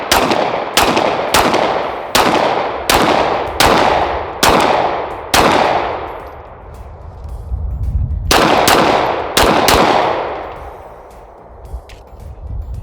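Shots from a Lone Wolf Arms Timberwolf 19X pistol at a range: loud, sharp reports, a rapid string of about eight evenly spaced shots, a pause, then two more, each with a ringing decay.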